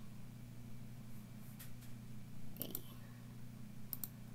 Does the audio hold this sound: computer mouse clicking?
yes